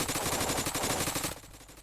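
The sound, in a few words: gunfire from the video game Blockpost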